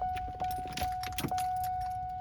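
Car keys jingle and clink in several short bursts over a steady high electronic tone inside a 1991 Buick, close to the microphone.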